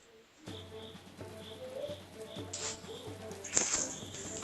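Birds coo and call in a bird-hunting video game, soft repeating tones with a low periodic thump, faint and close, with a brief sharper chirp near the end.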